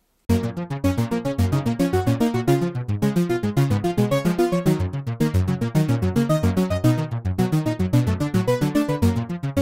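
A Bitwig Harmonize arpeggiator pattern plays low and high synth notes together in a fast, steady, evenly pulsed sequence spanning about two octaves, loud and continuous with no voices.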